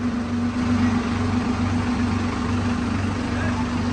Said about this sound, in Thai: ดัมค่อนข้างที่จะเก่งนะไม่ได้เร่งเครื่องเลยนะ